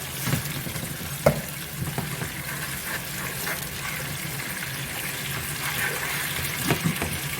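Garlic fries in a pan as vinegar is poured in, producing a steady hissing sizzle. Occasional splashy bursts and stirring clatter rise above it, with no voices.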